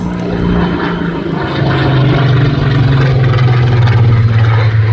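Supermarine Spitfire Mark 19 flying past at an air display, a loud, steady piston-engine drone with propeller roar that swells and holds close throughout, no voices.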